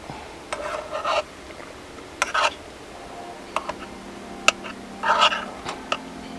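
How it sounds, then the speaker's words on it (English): Scrambled eggs being stirred in a pan, soft scraping and light ticks of the utensil against the pan coming in short, irregular bursts over a quiet sizzle. "we're gonna cook this and stir it until the eggs set"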